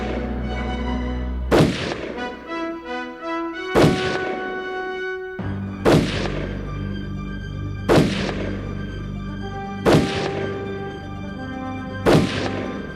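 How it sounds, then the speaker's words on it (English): Shotgun fired with low-velocity slugs or buckshot at a ring buildup inside an industrial kiln, six loud booming shots at roughly two-second intervals over a steady low mechanical rumble. "Simply aim at a fixed point on the ring and continue shooting until the ring is trimmed to your needs."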